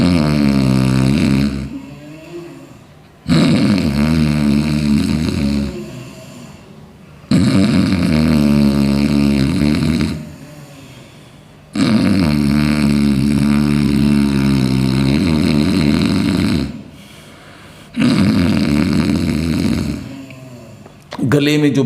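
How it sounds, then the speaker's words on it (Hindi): Snoring-like breathing from a pranayama yoga exercise, done with the tongue pressed to the palate and air drawn in through the nose: loud, rasping throat sounds in repeated long breaths of a few seconds each, separated by short pauses. "अब हम करेंगे खर्राटे की आवाज से।"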